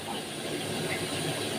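Garlic and coriander sizzle in a hot pan with a continuous, dense hiss and crackle, close and steady throughout.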